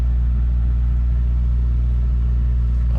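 Carbureted car engine idling slightly high, a steady close low rumble with no variation and no voices.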